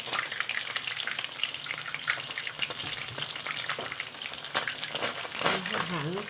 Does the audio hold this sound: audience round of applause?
no